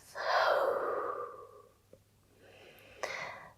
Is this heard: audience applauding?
no